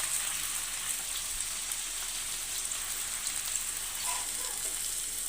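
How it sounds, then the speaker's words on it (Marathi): Washed fenugreek leaves stirred into sautéed onion and potato in a hot pan give a steady, soft sizzle with faint rustling, continuous and even, with no voices. "आपण याच्यामध्ये स्वच्छ धुतलेली मेथीची भाजी टाकून घेऊया आणि व्यवस्थित मिसळून घेऊयात"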